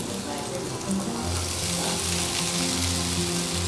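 Sago khichuri fries in a pan as it is stirred, a dense, steady sizzle with soft scraping movement, close and continuous.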